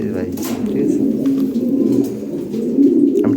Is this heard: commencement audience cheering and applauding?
no